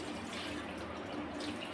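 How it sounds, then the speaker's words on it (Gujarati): Water pours into a pressure cooker fitted with a lid inside, a brief, soft, continuous trickling splash heard close up. "આમાં આપણે નીચે આ પાણી મૂકી દઈશું"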